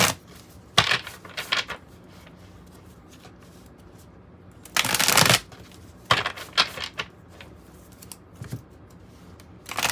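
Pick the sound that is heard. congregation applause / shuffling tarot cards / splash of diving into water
shuffling tarot cards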